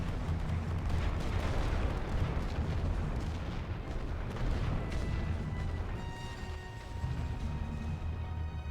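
Artillery and small-arms fire in a First World War trench combat game on the Western Front, with dense, continuous rumbling booms and crackling shots blending into a heavy wall of battle noise that stays loud throughout.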